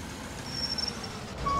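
Idling engine of an ambulance in EmergeNYC, gas version, a steady low rumble with a faint beeping tone above it, close and continuous, no talking.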